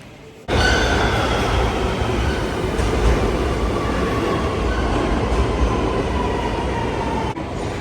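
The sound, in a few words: subway train arriving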